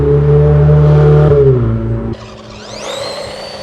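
A Haiboxing Racing 4x4 RC car whines loudly close by as its electric motor revs, then the pitch drops and a rising high whir follows as it accelerates away with the rear wheels spinning.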